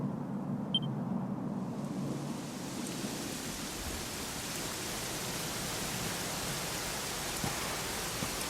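Steady, hissing rain falls without pause in the video game Dragon Quest XI, a soft broadband wash with a faint low rumble early on.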